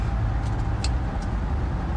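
A steady, loud road drone from inside a Mazda CX-9 Signature AWD crossover cruising in sport mode, continuous engine and tyre rumble with faint brief ticks above it.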